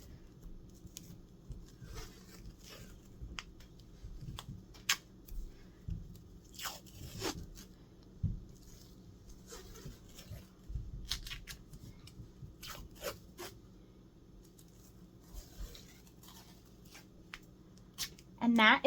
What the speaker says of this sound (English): And that is how you wrap an ankle.